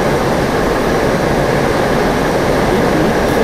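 Steady, loud jet engine roar of an F-5E in the DCS flight simulator game, a continuous broadband rush with a low rumble that holds evenly throughout, with no voices.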